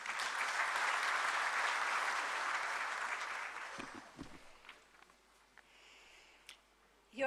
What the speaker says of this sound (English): I want you all to give her a huge round of applause.